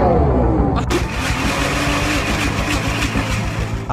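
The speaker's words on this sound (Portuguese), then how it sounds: "a Doge colocou um sistema de escape que produz um som do mesmo nível de um V8 Hellcat" Exhaust roar from a Dodge Charger Daytona SRT electric prototype's sound system, tuned to match a Hellcat V8, rumbles loud and steady with a sharp rise in intensity near the start.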